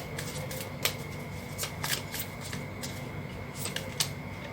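Tarot cards are shuffled and drawn close up, giving soft papery riffles and a few crisp snaps and slides of the cards under a faint steady background hum.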